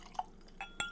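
Balvenie 21-year Portwood Scotch whisky poured into a glass gives a few soft, brief drips and clinks spaced across a second, faint and close, with no talk.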